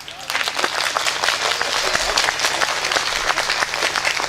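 An audience at a Hindi comic poetry recital applauds with dense, lively clapping from start to finish, individual claps standing out sharply, with faint crowd murmur underneath.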